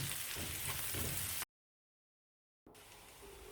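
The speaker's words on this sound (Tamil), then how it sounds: "இதே எண்ணெயில் வெங்காயம் சேர்த்து வதக்கிக்கலாம்." Onions sautéing in oil in a kadai for a curry leaf egg roast give a steady, dense sizzle that cuts to silence for about a second, then resumes at the same level.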